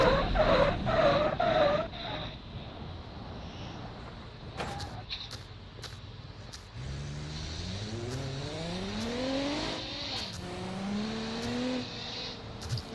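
A car in the video game BeamNG.drive loses control and skids, its tyres squealing and the engine revving with rising and falling pitch over several seconds, loud and near.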